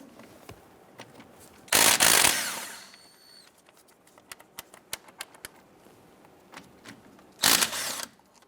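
Caliper bolts on a 1999-2004 Jeep Grand Cherokee are loosened and removed: two loud bursts of rapid impact-tool rattling, about a second each, separated by quiet clicks and handling of metal parts.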